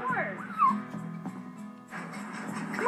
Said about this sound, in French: Peu importe la taille du chien, il faut toujours qu'il se mette à aboyer et qu'il essaye de l'attaquer.